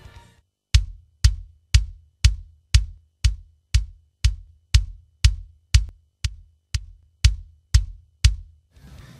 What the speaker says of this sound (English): And there you have a nice punchy kick.